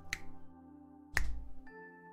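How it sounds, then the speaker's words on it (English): Two crisp finger snaps, close and fairly quiet, about a second apart, over a faint steady background hum and tones. "When I snap my fingers, no more voting"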